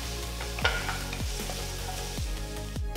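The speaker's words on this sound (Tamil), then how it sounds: "அடுத்து பொடிசா நறுக்கின ஒரு வெங்காயம் சேர்த்து 2-3 நிமிஷம் வதக்கிக்கலாம்" Chopped onion sizzles steadily in a hot pan while a spatula scrapes and stirs it every few moments, close up.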